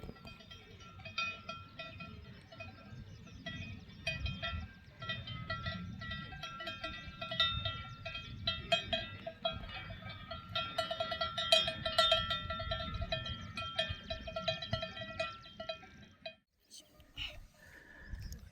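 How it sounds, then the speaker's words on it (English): Many small bells worn by grazing horses clang and jingle continuously in a dense, busy chorus across a valley between Saint Michel and Espinal, with a brief lull near the end. "There were also a lot of horses that were wearing bells"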